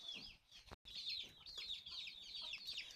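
Chickens on a farm cluck and chatter busily in the evening, with many overlapping calls close by at a fairly constant, moderate level.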